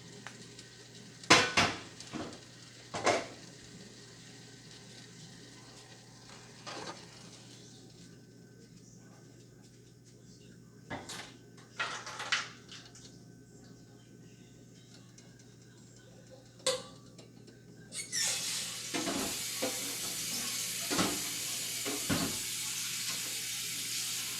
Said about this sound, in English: I'm going to take this big skillet and I'm going to transfer what's in my deep pot into this skillet